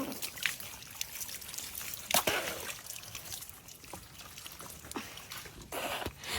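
Cold water trickles and splashes intermittently while someone bathes at a rural province home, close and moderately loud with brief louder gushes.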